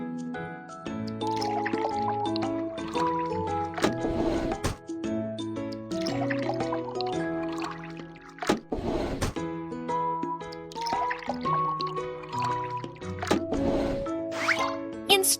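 Cartoonish liquid pouring into a car tank in the Little Panda auto mechanic children's game comes as a few short gurgling, splashy bursts over cheerful looping background music.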